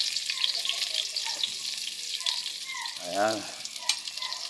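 Onions sizzle and fry in hot oil in a pan for a sautéed chayote dish, a steady crackling hiss with stirring, and a brief voice speaks a word midway.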